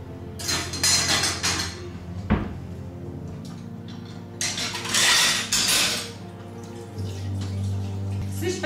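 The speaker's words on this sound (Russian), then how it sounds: "Слышь, потише там, не разбей посуду." Dishes clink and clatter near running water, with a sharp knock partway through and a steady tap flow toward the end.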